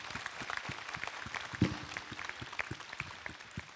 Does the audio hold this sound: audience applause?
yes